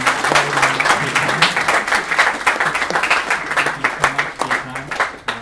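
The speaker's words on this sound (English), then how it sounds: "Just everyone, if you could give a round of applause to both Bo and Kim." An audience at a 2014 YSPN marquee event on innovation and entrepreneurship breaks into loud, sustained clapping, dense and steady throughout with a slight tapering toward the end.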